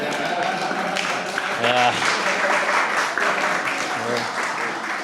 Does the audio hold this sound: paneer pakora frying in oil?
no